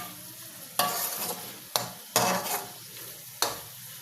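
Finely chopped tomatoes are stirred into a chicken and potato curry in a pan, a few distinct bursts of scraping and sizzling separated by short quieter gaps, close and moderately loud.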